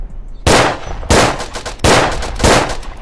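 Gunfire in the World War I trench shooter Verdun: four loud, sharp shots spaced roughly evenly apart, each with a long echoing decay, close and with no talking.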